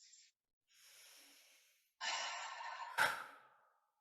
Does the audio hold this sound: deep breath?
yes